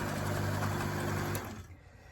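A sewing machine runs steadily, stitching two thin eco-dyed cloths together, with a continuous close motor hum for over a second before it stops and leaves quiet room tone.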